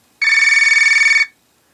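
Classic Touchmatic stock ringtone from Firefox OS playing on a ZTE Open phone: one steady, loud electronic trill with a fast pulsing warble, lasting about a second, then silence.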